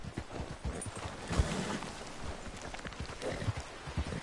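A horse gallops in the Red Dead Redemption 2 video game, its hooves drumming in a quick rhythmic clip-clop, close and steady over outdoor ambience.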